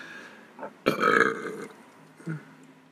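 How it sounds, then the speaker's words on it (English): A single throaty burp rumbles out close to the mic inside a car, with a bit of breathy sound around it. "Sorry, I have to burp."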